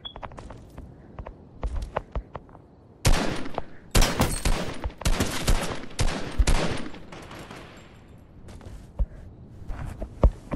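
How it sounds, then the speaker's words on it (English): SMG fire in Fortnite: several loud bursts of rapid shots in the middle stretch, with softer scattered shots and footstep-like taps before and after. "Give me a SMG real quick."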